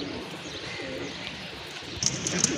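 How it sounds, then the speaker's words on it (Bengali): A pair of imported pigeons coos softly against a constant background hiss, with a few sharper chirps near the end. "দেখেন কবুতর জোড়া"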